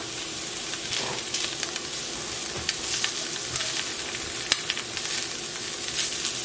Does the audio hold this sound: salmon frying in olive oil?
yes